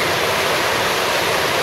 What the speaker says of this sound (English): And caught this waterfall